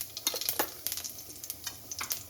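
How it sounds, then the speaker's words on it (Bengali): Whole cumin seeds and a bay leaf sizzling in hot oil for a cumin-paste curry, a faint spattery crackle with quick irregular pops and bursts, heard alone. "আর দিয়ে দিচ্ছি একটা তেজপাতা, আর এখানে গোটা জিরে ফোড়ন দিয়ে দিচ্ছি।"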